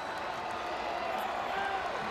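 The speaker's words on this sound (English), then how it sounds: "Southern Miss defense is firing up their crowd." A college football stadium crowd roaring for the Southern Miss defense at Louisiana Tech, a dense, steady wall of cheering with no clear peaks.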